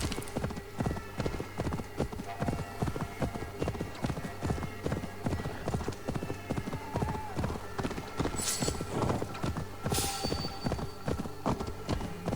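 Horse hooves clip-clop steadily in Assassin's Creed Valhalla, a continuous rhythmic trot close up, with occasional faint whinnies and brief bright game effects near the end.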